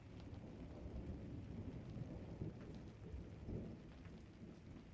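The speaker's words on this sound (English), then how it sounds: "the sound of the rain and the thunder here" A thunderstorm: steady rain pattering on surfaces with low rolling rumbles of thunder underneath, continuous and fairly soft throughout, with no voices.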